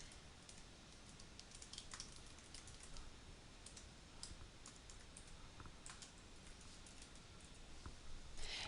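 Typing on a computer keyboard, a quiet, steady patter of light key clicks with a few louder taps, close and alone.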